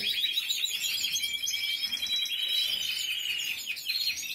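A timbrado canary delivers a continuous high warbling song with rolling trills and chirps, fairly close and alone with no talk.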